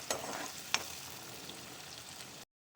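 Vegetables and ingredients frying in hot oil in a pan give a steady close sizzle, with a couple of sharp stirring scrapes near the start, before cutting to silence at the end.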